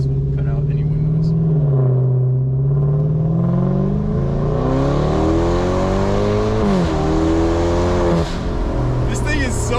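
A BMW F10 550i with its windows down roars loudly from inside the cabin. The engine note rises and falls as it revs and accelerates, and a voice talks over it.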